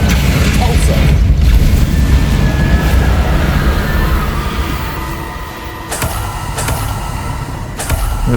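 A Confringo blasting spell explodes in Hogwarts Legacy, a loud rumbling blast over dense low roar, followed by a few sharp cracks and impacts toward the end.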